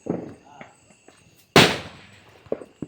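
A Diwali firecracker bursts with one sharp, loud crack outdoors in a village, followed by a fading rumble and some faint pops, with scattered voices and small sounds before it.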